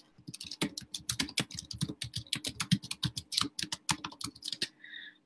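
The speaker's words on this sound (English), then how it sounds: "it's going to be loud typing" Loud, rapid typing on a computer keyboard, close and clattering with irregular bursts of keystrokes and a few heavier clacks, ending in a brief pause and a soft click.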